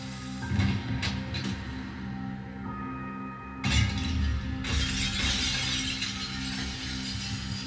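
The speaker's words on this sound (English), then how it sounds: "The pot shattering, like her body shattering like a pot" A pot shatters in the TV drama The Glory, with sharp breaking bursts over a sustained tonal music bed, one crash early and a bigger one midway that trails into scattered debris.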